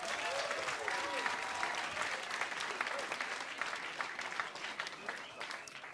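A live crowd at a music contest finale applauding a performer, dense steady clapping that fades slightly toward the end, with some cheering and voices mixed in.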